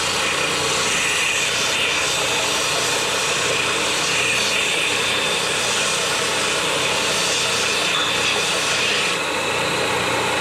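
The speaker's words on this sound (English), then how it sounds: "I'm over here by my trusty old belt sander, and I'm gonna go ahead and get this all rounded off" A worn belt sander rounds off the tip of a wooden pin dowel, giving a loud, steady abrasive roar with a continuous motor whine and no pauses.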